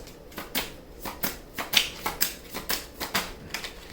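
Tarot cards are shuffled and drawn on a table, making a rapid series of crisp riffling slaps, about a dozen evenly spaced snaps, close and clear with no talk.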